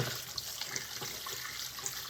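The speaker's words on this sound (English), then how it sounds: "So what we'll do is we'll dump out the hot water." Hot water dumped out of a pot into a sink after washing a handwoven scarf, a brief steady splashing rush with small droplet spatters.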